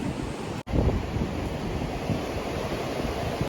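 Sea surf on Mandarmani beach rolls in a steady broadband wash with wind buffeting the microphone, continuous and fairly loud after a brief cut near the start, with no voices.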